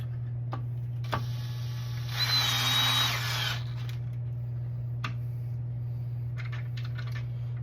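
A power drill drives screws for the toe piece of a CAST Freetour 2.0 ski binding being mounted on a ski, giving one whirring burst of just over a second over a steady background hum, with a few small clicks and taps around it.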